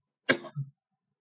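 One short, sharp cough from a person, a single harsh burst followed by a brief lower rasp, close and clear against silence.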